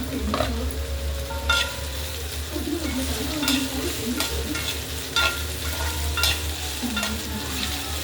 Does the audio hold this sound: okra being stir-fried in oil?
yes